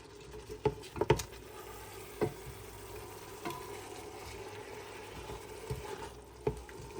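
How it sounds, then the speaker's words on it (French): Onion and a piece of veal shank frying in olive oil: a faint, steady low sizzle with scattered sharp clicks and pops from stirring or spattering, no voices. "je vais bien faire revenir l'oignon avec mon morceau de viande"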